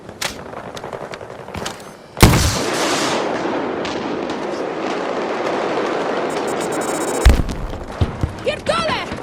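Loud TGM rocket explosions and gunfire in the Battlefield 2042 video game, Breakthrough multiplayer mode: a sudden heavy blast followed by sustained rumbling battle noise, a second sharp explosion near the end, with game voices over it.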